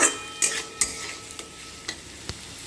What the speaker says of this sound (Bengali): যতক্ষণ না ভাজা হোক তো ততক্ষণ অনবরত নেড়ে যাবো এটা ঢাকা দেবো না একটু ভেজে নিই